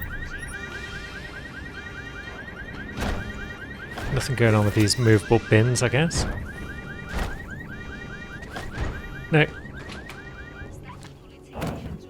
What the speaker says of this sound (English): let's set off all the alarms